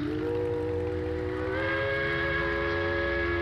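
A train in Farming Simulator 19 sounds a sustained whistle or horn chord that shifts upward partway through, over a steady rumbling rail bed, with no talk.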